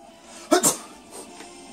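One sharp, close sneeze bursts out after a short quiet stretch, followed by faint rustling.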